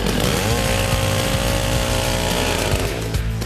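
A chainsaw cuts trees in the Shangri-La Wildlife Reserve, its engine snarling loud and steady close by for the whole stretch, with the pitch wavering slightly as the blade works through the wood.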